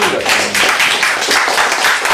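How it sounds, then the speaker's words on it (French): Applause for a competitor at a cocktail competition, a dense, steady patter of many hands clapping close by for a couple of seconds, with no voices over it. "On peut applaudir Charles Jeanville"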